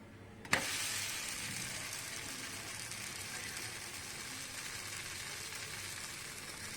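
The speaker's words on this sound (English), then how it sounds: "we wait for this side to get cooked" A coconut-filled pancake cooking on a tawa, a sharp tap at the start followed by a quiet, steady, even sizzle that holds throughout, close by and with no talk.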